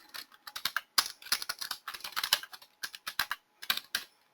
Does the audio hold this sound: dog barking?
no